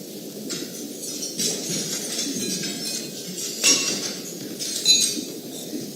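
Glasses clink in scattered bright taps during a toast at a US State Department luncheon, heard over a steady murmur of room noise and chatter, with a couple of louder clinks standing out.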